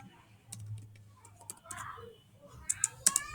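Typing on a computer keyboard during data entry work, a few scattered key clicks ending in a quick cluster of sharper taps, close and fairly faint, with a voice speaking at the start.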